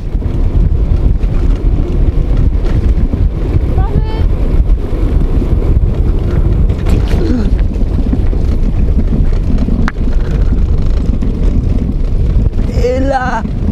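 Heavy wind buffets the microphone on a bike ride over a road and then cobblestones, with loud continuous rumbling and a few faint sounds rising above it.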